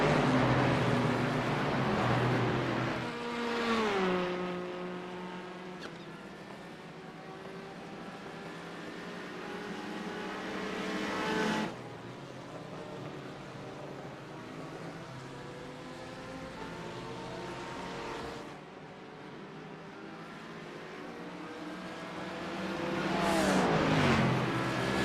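Loud, steady Porsche GT4 race car engine in a racing video game, droning throughout with rising and falling pitch as it shifts gears and revs up and down, sharp changes near 4, 12, 19 and 23 seconds.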